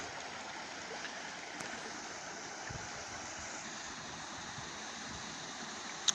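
Water drains out of a canal lock in a steady, even rush, moderately distant and fairly quiet, with a faint click near the end.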